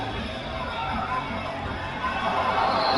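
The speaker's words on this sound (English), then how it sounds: "Is the crowd noise still loud enough on the stream?" Steady crowd roar from a Madden 24 football game, a dense wash of cheering and chatter that swells slightly toward the end, with talk mixed in underneath.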